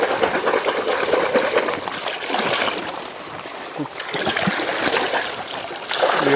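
Water trickles and splashes steadily as freshly caught river crabs are washed in the Konkan, a continuous close rushing with small splashy bursts.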